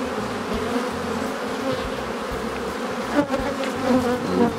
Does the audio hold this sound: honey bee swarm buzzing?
yes